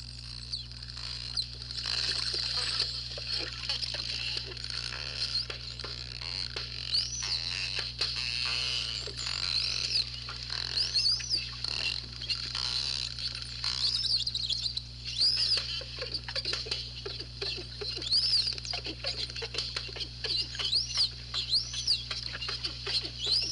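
Underwater recording of dolphin echolocation clicks in a dense, rapid series alongside frequent rising chirp-like whistles, over a steady low hum.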